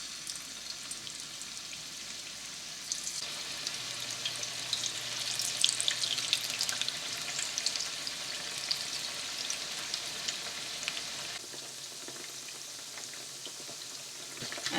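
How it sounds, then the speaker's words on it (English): Pieces of Chicken 65 fry in hot oil in one pot, giving a steady crackling sizzle with bright popping spatters that swells in the middle, close and alone without any voices. "And once the oil has heated, we're going to start frying up the chicken pieces."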